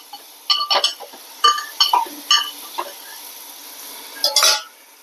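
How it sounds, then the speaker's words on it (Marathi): Finely chopped onion frying in oil with a tempering for ragda, stirred with a utensil: several separate bursts of scraping and clinking over a faint steady sizzle, close and fairly loud. "चांगला फ्राय होऊ द्यायचा लाल"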